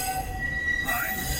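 Wheels of the Walt Disney World Railroad train squeal loudly and steadily against the track in a sustained metallic whine, with the rumble of the moving cars underneath throughout.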